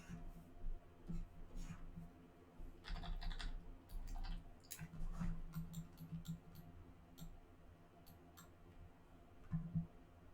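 Keys clatter in steady, uneven bursts on a computer keyboard during 3ds Max modeling work, with occasional mouse clicks, close and moderately loud, with no talking.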